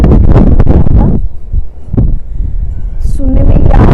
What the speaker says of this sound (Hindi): ये जो हवा चल रही है ये भी आपको डिस्टर्ब करेगी इसमें, वॉइस में